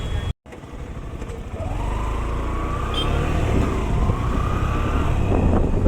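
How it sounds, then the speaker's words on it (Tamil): Busy road traffic in Tirupur, with cars and motorcycles rumbling close by, engines humming and revving up in rising whines over a steady low roar; a brief dropout comes near the start, and nobody speaks. "இப்போ டிராஃபிக்கில் மாட்டிக்கிட்டு"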